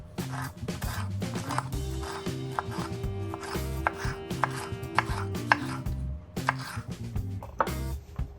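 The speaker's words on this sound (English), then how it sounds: "Slice the pepper into strips." A knife slices a pepper into strips, a quick series of crisp chopping taps over steady background music.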